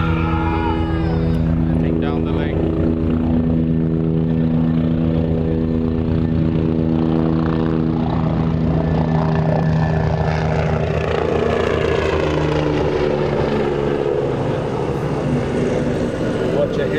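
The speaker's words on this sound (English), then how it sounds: "helicopter fly over Western Province Cricket Club" A helicopter passes over Western Province Cricket Club, a loud steady engine and rotor drone with a slowly shifting pitch, while people talk over it.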